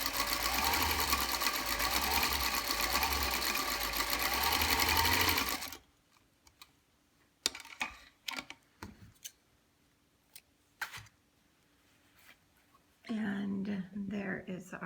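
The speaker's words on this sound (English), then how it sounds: "And there is our nicely sewn curve." A sewing machine runs a steady, loud whirring stitch along a curved quilt seam for about six seconds before halting, followed by scattered handling clicks and a brief spoken remark near the end.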